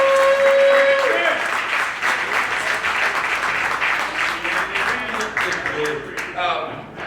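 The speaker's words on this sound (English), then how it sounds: "Please, can we give him a round of applause?" Audience applause for a mayoral candidate, a dense, loud round of many hands clapping that holds steady for several seconds before tapering off, with a brief tone and voices mixed in at the start.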